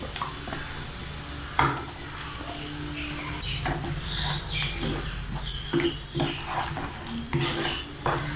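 A spoon scrapes and stirs a thick paste of ground fried tomato, onion and coconut in a hot pan for mutton kuzhambu, with a steady sizzle underneath and irregular close clinks against the pan.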